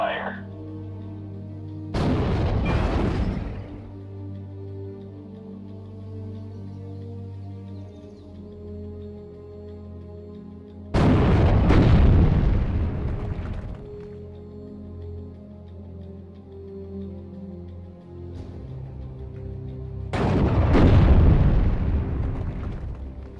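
Tank gun fire and explosions in the WWII video game Steel Division: Normandy 44: three loud, deep booms roughly nine seconds apart, each rumbling away over a low steady background hum.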